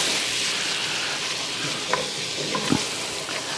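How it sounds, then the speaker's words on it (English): A butter and flour roux stirred in a pan, with a steady close sizzle and a few soft scrapes of the utensil across the pan. "So into this butter, we're going to add our 1/4 cup of flour,"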